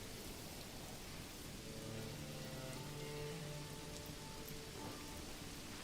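Heavy wind-driven rain in the medieval strategy game Manor Lords during a thunderstorm, a dense continuous hiss of falling drops with a faint low tonal hum underneath, steady throughout, no speech.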